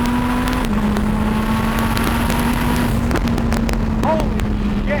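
Hypercar engine making roughly 1,860 horsepower, a loud steady drone with rushing wind across the whole stretch, pitch holding nearly constant with slight shifts.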